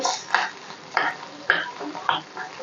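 An egg goes into a pan during home cooking, with about five short clattering, scraping bursts spaced roughly half a second apart, close and moderately loud against a quiet background.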